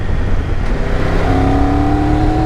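Engine of a 2022 Triumph Tiger 1200 motorcycle while riding, a loud steady drone with rising whining tones as revs climb, heard close over constant wind rush.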